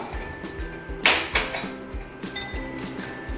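Two eggs with a little milk whisked in a bowl, a quick, light rhythmic clinking and tapping against the bowl at close range, steady throughout.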